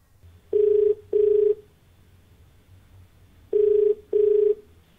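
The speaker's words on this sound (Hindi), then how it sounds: "अपने कार्यक्रम की शुरुआत करते हैं और फोन लगाते हैं" Telephone ringback while a call is placed during a Green TV question-and-answer programme, heard as two pairs of steady electronic ring tones separated by a pause, loud and clear over a low background hum.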